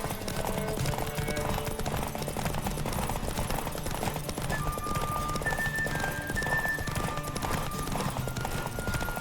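A horse gallops hard during a race in The Witcher video game, its hooves pounding in a rapid, continuous clip-clop beneath game music, with an occasional whinny.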